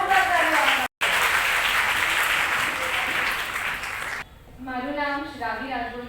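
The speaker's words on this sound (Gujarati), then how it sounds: "જોરદાર તાળીઓ" Loud, full audience applause rolls on for about four seconds at a Gujarati mother-language day celebration, then cuts off as a single young voice begins speaking.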